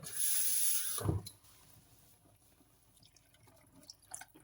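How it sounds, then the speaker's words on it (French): Water poured from a tap or container into a pot of okra sauce, a steady splashing pour for about a second before it stops, followed by a few faint drips and quiet kitchen clatter. "n'hésitez pas à rajouter de l'eau si vous voyez que votre sauce est trop épaisse"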